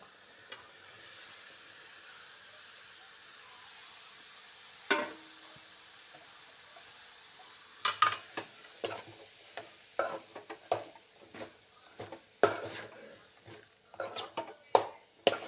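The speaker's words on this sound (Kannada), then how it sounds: "ಇಷ್ಟು ಫ್ರೈ ಆದಮೇಲೆ ಈಗ ಹಲಸಿನಕಾಯಿ ಹೋಳುಗಳನ್ನು ಹಾಕೋಣ." Jackfruit pieces added to spiced masala in a pan set off a soft sizzle, followed by a series of sharp scraping and clinking stirs of a spoon against the pan, close and irregular.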